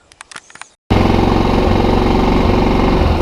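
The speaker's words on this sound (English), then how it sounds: "let me start it, warm it up for a minute, then we'll get a ride." A Kazuma Jaguar 500 4x4 ATV, a Polaris Sportsman 500 clone, starts up after a few faint clicks and a short silence, then runs loud and close at a steady, rough idle as it warms up.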